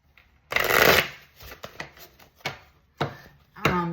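Tarot cards are riffled and shuffled close by, first in a loud burst and then in several quick, crisp riffles with short pauses between them.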